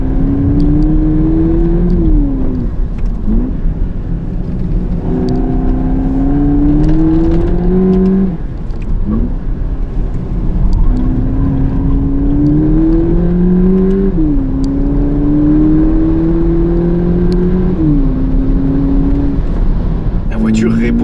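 A 2022 VW Polo GTI with 207 hp makes a launch control start. The engine revs climb repeatedly in rising sweeps with quick gear changes between them, loud and close from inside the car, without any talk.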